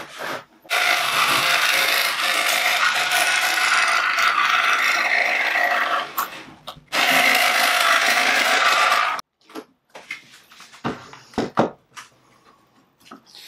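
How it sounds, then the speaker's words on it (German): Two long stretches of loud, harsh sawing through plexiglass, each stopping abruptly, followed by scattered clicks and handling noises. "und säge das jetzt mal hoffentlich ohne Bruch aus."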